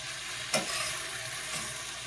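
Whole large pepper and a medium onion fry in a pan with a steady, close sizzle, broken by a short clatter of stirring about half a second in and a softer one near the end.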